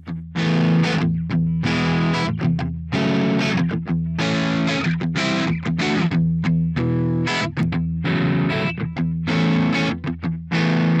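Heavily distorted electric guitar played through custom-built cabinets loaded with Celestion speakers, loud chugging chords and riffs in short bursts with brief gaps, no voices.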